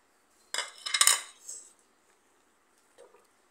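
A metal spoon scrapes and clinks against a pot while sago, cardamom and cinnamon are stirred into thickened milk, a short burst of close clatter that fades, then one faint tap.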